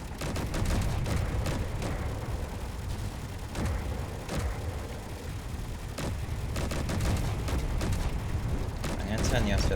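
Weapons in the Space Engineers video game blaze away in a sustained, dense volley of cracks and thuds, loud and unbroken, with sharper individual shots punching through the steady roar.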